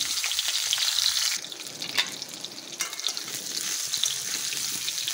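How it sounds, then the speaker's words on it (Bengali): Papaya and potato pieces sizzle steadily in hot oil in a wok, a continuous close crackle with occasional stirring scrapes and a brief louder burst near the middle; no one speaks. "পেঁপেটা হালকা ভাজা হয়ে গেছে"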